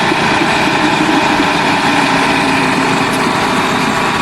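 Car engine with a burnt head gasket idling after running hot, its cooling fan still running, a loud, continuous rumble and whoosh with no pauses.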